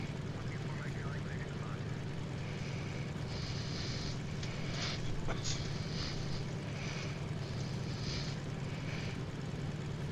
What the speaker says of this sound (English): flying in on his Cessna 170, towing a banner